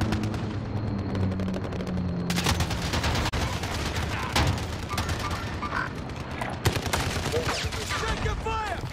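Dense, continuous gunfire in the armored battle-royale game Armored Royale, with rapid overlapping bursts and heavy impacts, loud and close throughout the whole stretch.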